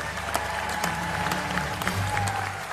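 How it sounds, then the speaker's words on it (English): A crowd at the West Virginia University Sports Hall of Fame induction ceremony applauds for a 2019 inductee, steady moderate clapping in a hall with a voice and some scattered sharper claps. "Please join us in a round of applause for 2019 inductee, Lisa Stoya."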